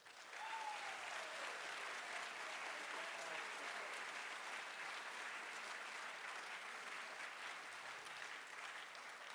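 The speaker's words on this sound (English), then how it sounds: "How about a big round of applause?" Sustained audience applause fills a College of Engineering welcome event for incoming students, a steady, even wash of many hands clapping at moderate distance, continuing unbroken throughout.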